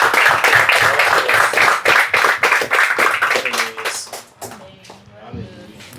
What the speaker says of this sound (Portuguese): Aplauda o Senhor, meu irmão.